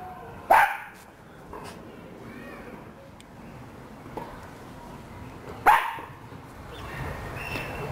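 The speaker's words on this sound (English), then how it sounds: "My dog." A dog barks twice, two sharp loud single barks several seconds apart, close by in a quiet room with faint background noise between them.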